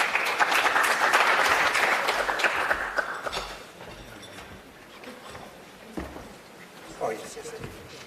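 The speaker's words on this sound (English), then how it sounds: "a round of applause for them" Audience applause at an international conference as a panel and guests walk to the stage, a full round of clapping that fades after about three seconds, leaving scattered claps, footsteps and murmuring voices.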